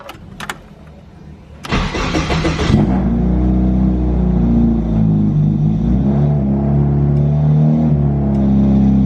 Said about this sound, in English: I really missed how this car sounds